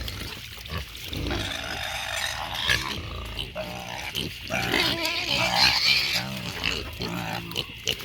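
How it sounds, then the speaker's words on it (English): Farm pigs grunt and snuffle steadily while feeding after a hurricane, a dense, close, continuous mix of low grunts and rustling with a person talking over it. "Mama pigs will have to wait till the baby pigs get fed."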